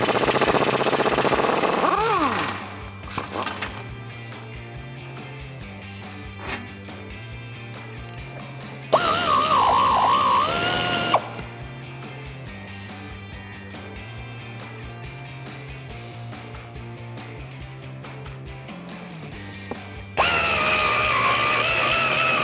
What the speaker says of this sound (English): Now we're gonna remove the lower strut bolt with a 30 millimeter socket and then a 27 on the other side.